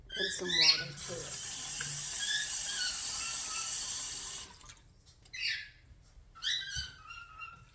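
Water pours steadily into a pot of split pea soup for several seconds, a bright rushing stream, then stops, leaving a few faint drips and small splashes.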